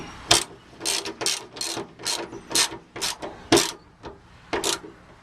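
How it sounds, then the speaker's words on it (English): A socket ratchet tightens the bolts on the tailgate latch of a 1999 Toyota Tacoma. Close, crisp clicking comes in a series of short bursts, each one a quick run of pawl ratchets with brief pauses between strokes. "I'd use the socket just to make sure you have it good and tight."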